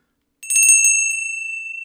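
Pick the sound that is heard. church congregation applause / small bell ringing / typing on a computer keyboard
small bell ringing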